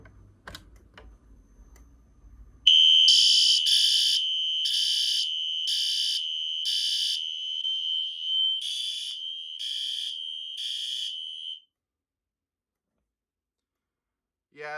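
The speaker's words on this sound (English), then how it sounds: "I've never seen a fire alarm do that before" After some faint tapping, a fire alarm blares a loud, piercing electronic tone with rapid pulsing bursts for several seconds, then cuts off abruptly.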